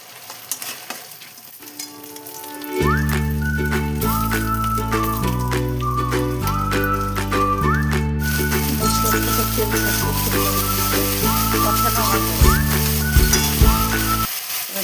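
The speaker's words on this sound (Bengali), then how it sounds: "টমেটো দিয়ে ভালো করে ভেজে নেব" Ground spice paste of onion, coriander, chilli, cumin, ginger and dried chilli fries with tomato for a katla fish curry, a steady close sizzle with stirring scrapes running under a loud melodic music track throughout.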